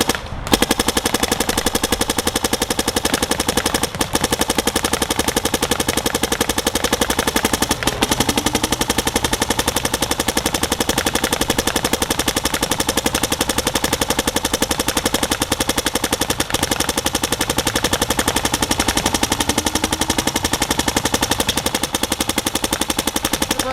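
Sustained machine gun fire runs loud and dense for the whole stretch, a rapid unbroken stream of shots close by with no talking over it.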